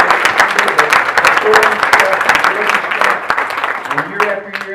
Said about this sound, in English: I want to give the guy another round of applause